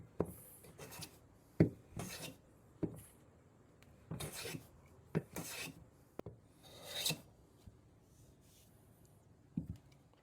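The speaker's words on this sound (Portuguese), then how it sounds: "Algumas passadas com a plana convencional, com a lâmina reta" A conventional hand plane with a straight blade smooths a wooden surface in finishing passes, giving a series of irregular rasping, scraping strokes, some short and some longer, close by with quiet pauses between them.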